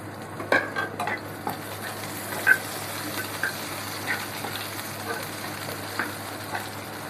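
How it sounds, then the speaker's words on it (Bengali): Hot tadka of chopped onion, garlic and dried chili sizzles steadily in a pan, with a scatter of clicks and metal-on-pan taps from stirring over several seconds. "আমরা এখন এই যে এটার সাথে তাড়কা দিয়ে দিলাম।"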